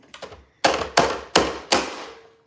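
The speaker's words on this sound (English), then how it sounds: "this might be a little bit noisy, especially with the sweet potatoes because they're thicker" A manual food chopper cutting thick sweet potatoes, four loud heavy thunks in a steady rhythm after a couple of lighter taps, each blow ringing out briefly before the next.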